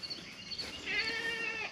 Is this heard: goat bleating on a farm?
yes